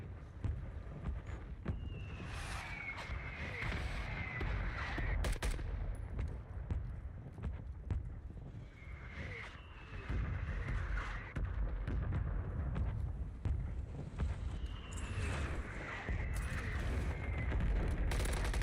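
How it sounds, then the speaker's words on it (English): Gunfire and explosions from a mortar strike in the video game Warzone form a dense, continuous barrage, with bursts of shots and booming blasts recurring throughout and no one speaking. "Mortar strike inbound now."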